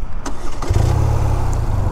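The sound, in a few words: BMW R 12 2025 motorcycle engine revving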